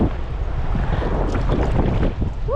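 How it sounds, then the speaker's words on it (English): Gusty wind buffets the microphone on a river canoe trip, a continuous loud rushing roar with low rumbles and splashy surges, briefly joined by a short rising chirp at the end. "It's windy too this morning."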